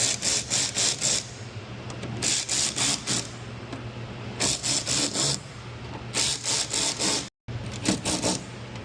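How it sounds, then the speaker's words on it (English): Ratcheting on a splash guard fastener during installation on a 2019+ Gen5 Dodge Ram 1500, repeated bursts of clicking strokes in a steady rhythm, close up, with a brief cutout near the end. "Now let's go ahead and tighten this thing up."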